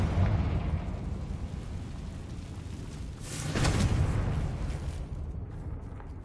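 A Confringo spell blast in the Hogwarts Legacy video game: steady rumbling noise swells into a loud explosive burst midway, then fades back to a low roar.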